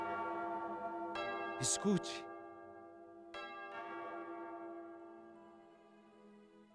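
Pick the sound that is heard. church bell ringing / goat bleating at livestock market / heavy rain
church bell ringing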